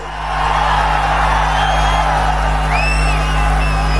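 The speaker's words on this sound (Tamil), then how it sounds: "குமராபாளையத்தில் நடைபெற்ற கூட்டத்தினுடைய ஆரவாரம் செவிய தொலைச்சுக்கிட்டு போக போகுது" Crowd at a political rally in Kumarapalayam roars and cheers in a sustained, swelling wall of voices, with whoops and shouts rising over a steady low hum.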